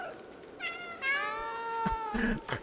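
A drawn-out, wavering cat meow from the video game Stray, followed by a shorter second call, close and distinct over low background noise with no talking.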